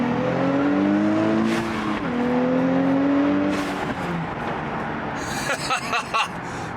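A tuned Nissan Z accelerates up a freeway on-ramp, its engine rising in pitch through gears with brief drops at shifts, heard from inside the cabin, ending in rougher, choppier engine bursts.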